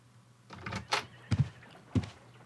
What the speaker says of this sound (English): I just heard the front door.